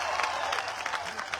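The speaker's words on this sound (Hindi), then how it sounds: "जोरदार तालियों से फारूक शाब्दी का इस्तकबाल करिएगा।" Applause from a public meeting crowd welcoming a speaker: dense, continuous clapping at middling distance with a murmur of voices underneath, filling the whole short stretch.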